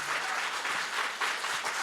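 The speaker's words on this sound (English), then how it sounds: "let the applause die down before you ask the question" Steady audience applause at a mayoral candidate forum, dense clapping from a crowd filling the room at moderate loudness with no speech over it.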